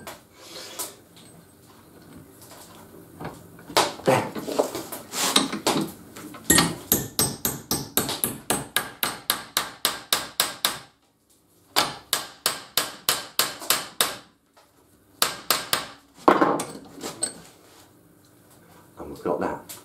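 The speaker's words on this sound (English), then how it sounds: "and then hammer it over flat" Loud, close hammer blows on metal, struck in quick rhythmic runs separated by short pauses.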